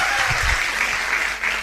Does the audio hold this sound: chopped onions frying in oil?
no